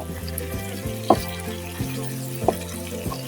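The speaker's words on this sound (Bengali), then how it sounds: "আগে আমি এই আলুগুলি ভালো করে একটু 5 মিনিট ভেজে নিব" Potatoes frying in a pan for a spicy potato chatpati snack, a steady soft sizzle with a few sharper stirring knocks near and a low tonal hum running underneath.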